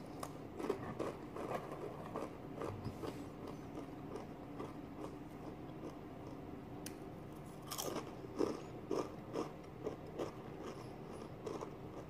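Hot Takis rolled tortilla chips being chewed fast and hard, close crunches and bites repeating in a dense, steady rhythm with no talk.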